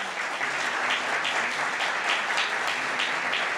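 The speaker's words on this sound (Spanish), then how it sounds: "Así que agradecemos y damos un aplauso" An audience at a panel discussion on fiscal reform applauds, producing dense, even clapping that stays loud and sustained from start to finish.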